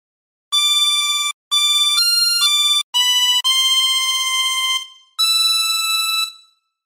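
Tremolo harmonica with 20 holes plays a slow Silent Night phrase: a string of sustained, reedy notes with short breaks between them, the last one held and fading, loud and close with no talking.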